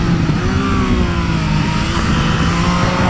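A 2017 Yamaha FZ-09 inline three-cylinder motorcycle engine, a loud sustained drone with a steady rising and falling rev tone, close by and without talk.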